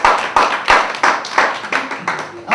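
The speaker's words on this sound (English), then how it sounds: "You guys are right to applaud" A live comedy audience at a 2004 Mardi Gras show claps in distinct, uneven bursts, loud and close, individual hand claps standing out in a loose rhythm with no speech over them.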